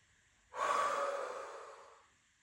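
One forceful breath pushed out through the nose and mouth during a breathing exercise: a close, rushing exhale that starts sharply and fades over about a second and a half.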